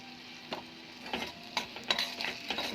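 Chili powder and turmeric are stirred into hot oil in a pan for a shorshe ilish (mustard hilsa) curry, with quiet sizzling under a series of light, irregular spoon scrapes and clicks.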